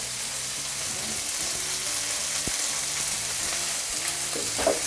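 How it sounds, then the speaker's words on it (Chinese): Steak searing in an oiled pan over medium-low heat, with its fat trimmings already rendered, giving a steady, soft, close sizzle that holds for the whole stretch with no talk. "我们中小火慢慢去煎它"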